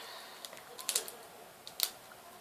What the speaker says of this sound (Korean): 이거를 한번 제가 뜯어볼게요